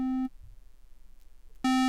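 Two short bursts of a buzzy, hollow square-wave tone from the Alpha Ray synthesizer, separated by a quiet gap with faint background noise.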